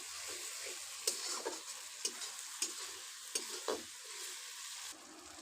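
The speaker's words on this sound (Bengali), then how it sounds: "পেঁয়াজটা কষানো হয়ে গেছে" Onions sautéing in a pan while chicken is cooked, a steady soft sizzle with several sharp scrapes and clicks of a spoon stirring at irregular intervals.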